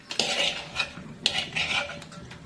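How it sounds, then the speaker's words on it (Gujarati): A metal spoon scrapes and clinks against a dish of khichdi in two short bursts, close and crisp, with no talking. "આપણે એક ચમચી લઈ લઈએ."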